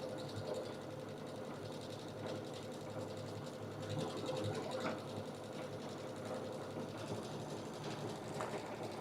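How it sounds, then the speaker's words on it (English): Embroidery sewing machine stitching a tapered snowflake design, a continuous fast mechanical whir and patter held at an even, fairly quiet level throughout. "I'm just going to touch my reverse button while it's sewing, and it's just going to continue to sew for us."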